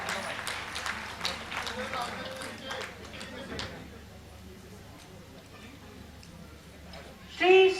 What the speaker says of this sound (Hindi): तालियां होती रहे लगातार।